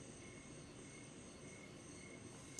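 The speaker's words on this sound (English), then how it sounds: "my crickets, are they kind of loud" A faint, constant high chirring of crickets runs through a quiet nighttime background, steady and unbroken.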